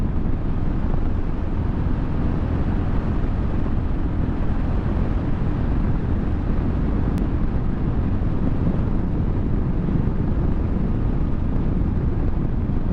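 A 2023 Royal Enfield Classic 350 motorcycle held at full throttle while riding, a steady, unbroken drone of engine and rushing wind at constant loudness, with no voices.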